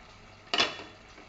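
A single metallic clank sounds up close as the lid is lifted off a bronze uruli pot of chicken roast. A brief ringing decay follows in a quiet kitchen.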